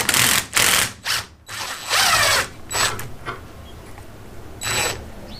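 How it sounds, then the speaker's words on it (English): Ratchet clicking in quick bursts while loosening the top nut on a Honda CB500 Four front fork, several loud close ratcheting runs separated by brief pauses, no talking. "Now I can go ahead and remove this top nut."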